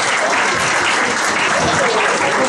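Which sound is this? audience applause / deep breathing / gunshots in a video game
audience applause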